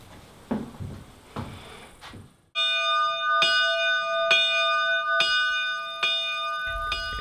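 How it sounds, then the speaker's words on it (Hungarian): A newly cast bell in a chapel rings out with repeated clear, resonant strikes whose long tones overlap and linger, following a few earlier thumps and rustles. "egy gyönyörű harangot öntött"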